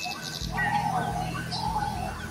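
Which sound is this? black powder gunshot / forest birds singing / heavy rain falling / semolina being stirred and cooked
forest birds singing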